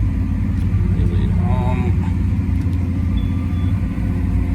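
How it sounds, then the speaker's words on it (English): A tractor pulls a new cultivator across a field on auto-steer, its engine giving a loud, steady, close rumble that holds unchanged throughout, with a voice briefly heard over it. "And the tractor will drive itself across the whole field."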